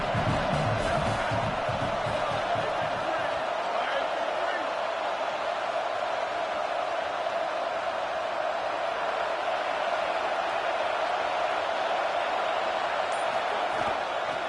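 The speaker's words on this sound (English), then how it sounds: "Man, this crowd really affecting the football game." A large home crowd roars steadily throughout at a college football game, a dense, sustained wall of noise with a commentator talking over it.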